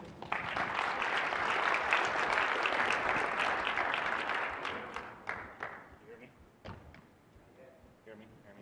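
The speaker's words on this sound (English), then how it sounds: "So applause to Scott from Oakley." Conference audience applause at a SharePoint Conference session, a dense burst of clapping for several seconds that thins into scattered claps and fades out, with some murmuring.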